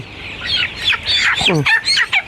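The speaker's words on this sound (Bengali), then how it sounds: "আজকে দুইটা মুরগি ধরছি" Two freshly caught Sonali hens cluck and squawk close up, giving a quick run of agitated, rising calls and short bursts, loud and alone.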